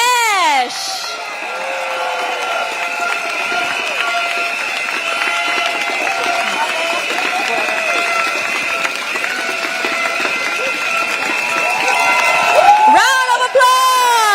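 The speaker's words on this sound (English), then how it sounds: "A round of applause for the candidates of East Coast GRC." A crowd at a campaign rally for East Coast GRC candidates claps and cheers loudly and continuously, with whoops rising toward the end and a voice over a loudspeaker at the start and finish.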